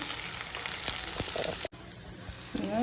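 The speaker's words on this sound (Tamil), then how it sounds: "இது வந்து இதே மாதிரி எண்ணெயில் ஃபுல்லாக நல்லா வதக்கிக்கணும்" Bitter gourd sautés in oil for paavakkai kulambu, a close, dense sizzle with a few scraping stirs before a brief cut, then the frying resumes more quietly.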